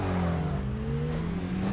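A Subaru Impreza WRX STI GC8 in the Tokyo Xtreme Racer Drift 2 video game revs and drones steadily up close, its engine pitch rising slightly and then easing back, with a faint tire squeal.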